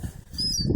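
A seagull flaps its wings close by while being fed, a brief soft flurry of rapid wingbeats.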